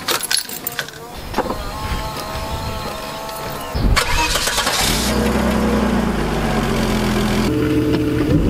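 An older rear-wheel-drive Volvo estate is started from inside the cabin: keys jangle and a door thuds, then the starter cranks and the engine catches and settles into a loud, steady idle, with a brief voice early on.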